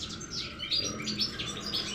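Goldfinch chirping in rapid, continuous bursts of bright twittering notes, close and fairly loud, alone without voices.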